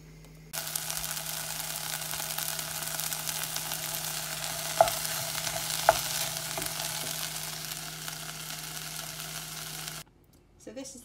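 Onions in a tomato-puree barbecue sauce sizzle steadily on a stovetop, a constant frying hiss with a couple of brief utensil clicks, then it cuts off near the end.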